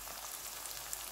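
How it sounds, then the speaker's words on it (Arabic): Onions and hot chili sauce sizzle steadily in a pan while being stirred, a dense, even frying hiss heard up close with no talk. "نقلب في البصل اهوت، نحط بقى الشطة اللي هي الحراقة الحارة دي"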